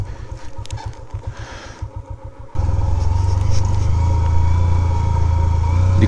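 A motorcycle rides slowly over loose gravel on a steep track near Ranikot Fort at night. Its engine throbs in a loud rhythmic pulse, then settles into a steady, close drone.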